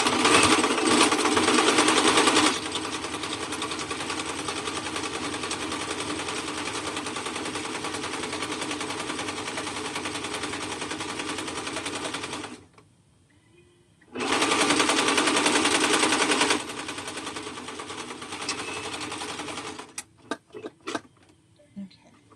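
A sewing machine runs a zigzag stitch on stretchy knit fabric for a cropped cardigan, a fast steady rattle for long stretches that stops, restarts, then trails into a few short bursts and clicks.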